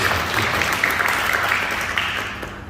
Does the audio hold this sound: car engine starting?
no